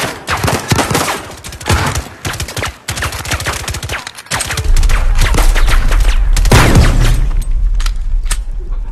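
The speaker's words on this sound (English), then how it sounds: "I'm going to go with this pistol and see what happens." Rapid volleys of pistol fire ring out in the VR shooter Zero Caliber 2, sharp loud cracks in quick bursts through the first half, then a denser, booming stretch of continuous shooting with a low rumble beneath.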